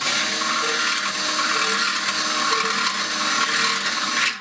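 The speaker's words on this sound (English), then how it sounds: "you ream clockwise like this until you get that hole big enough" A power drill reams a hole in a Weber grill at high speed, a loud continuous whine with a slightly wavering, pulsing tone that stops abruptly at the end.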